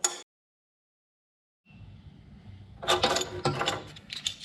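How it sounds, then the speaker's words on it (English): Cut metal pieces for a motorcycle battery box being deburred, heard as scraping, clicking metal handling in close bursts after a quiet gap and a low rumble. "the next step, now that you have all your pieces cut, is to deburr all of them and clean them up and get them ready for welding"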